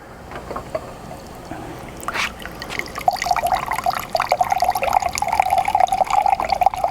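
Fresh sugarcane juice pours from a press spout, starting as faint drips and building into a steady, bright trickling stream.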